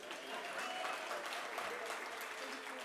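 Audience applause at an international conference in Durban, South Africa: steady, dense clapping from a large room, moderately distant and sustained throughout without a break.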